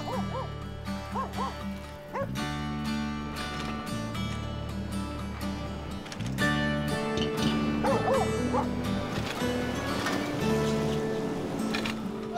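A cartoon dog, Lassie, barks and yips, then lets out whimpering whines, set against a busy backdrop of music and other sound.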